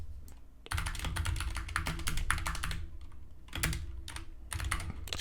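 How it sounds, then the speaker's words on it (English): Fast, quiet keystrokes clatter on a computer keyboard in rapid bursts, with short pauses between runs, over a low steady hum. "So I'm typing"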